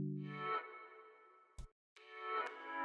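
Reversed guitar patterns pitched down to follow the chords and stretched, heard as swelling, processed tones in a few sporadic phrases with a brief gap, no voices.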